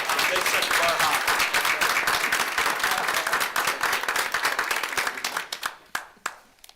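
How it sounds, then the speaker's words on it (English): Audience at a school board meeting applauding three seniors, sustained loud clapping from a roomful of people that gradually thins into a few scattered final claps, with faint voices mixed in. "But let's give a big round of applause to these three seniors."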